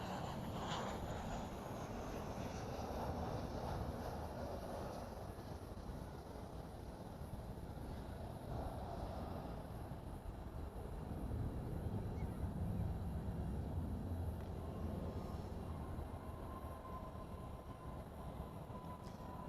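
A United Airlines jet arriving from Denver touches down at DFW airport at night, a steady broad rumble of engines and airflow holding at moderate loudness throughout with no talk.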